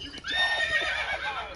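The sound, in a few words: horse neighing in Minecraft video game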